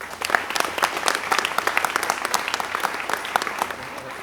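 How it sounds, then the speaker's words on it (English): A crowd at a Detroit mayoral announcement on youth employment gives a round of applause, with crisp individual claps standing out in a lively, sustained burst. "let's give another round of applause for 4"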